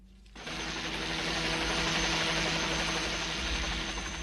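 A helicopter in flight gives a loud, steady rotor and engine roar. It swells in sharply after a brief quieter moment and then holds at full strength throughout, with no talking.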